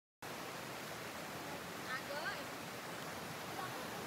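A river flows through dense forest near Shabaridham in Gujarat, a faint, steady rushing hiss of water that holds even throughout, with a few distant chirps drifting over it.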